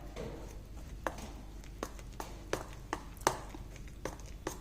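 Urad dal and maida batter for jangri being mixed by hand or spoon, soft wet slaps and taps recurring irregularly against a bowl, fairly quiet and close.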